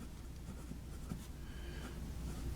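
A fountain pen with a fine nib writes on paper under light pressure, giving a faint, soft, steady scratching close by over low background hiss.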